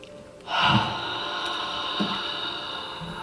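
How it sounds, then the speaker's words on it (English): A deep breath is drawn in during a spiritual center service. It starts suddenly as a strong, airy inhale near the microphone, then fades into a long, steady rush of breath over room noise. "Take a deep breath in."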